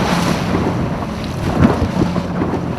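A sailboat in a crowded frostbite racing fleet pounds through big waves, with rushing water, spray and heavy wind buffeting the microphone, loud and continuous.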